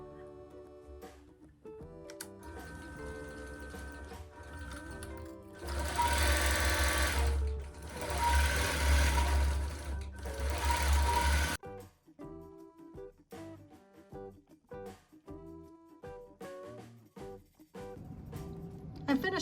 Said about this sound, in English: We're going to go ahead and start the quilting.